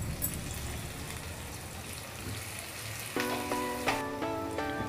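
A tadka of oil tempered with red chili powder, turmeric and a little coriander sizzles and fries for tur dal. It is a steady, fairly soft crackling hiss, and near the end a ringing metallic tone rises over it.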